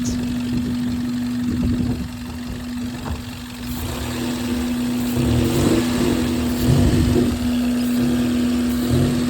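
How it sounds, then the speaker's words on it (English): A 1997 Toyota Corolla fitted with a new cold air intake idles steadily up close, a constant engine drone with a firm low hum and no voices. "I think the motor's definitely a little bit louder"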